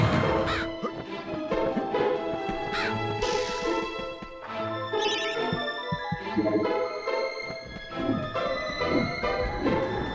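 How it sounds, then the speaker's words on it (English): Crows cawing repeatedly in the MediEvil Scarecrow Fields level, harsh calls scattered over busy game music and occasional crashing hits, moderately loud throughout. "Again, I should be ignoring the crows."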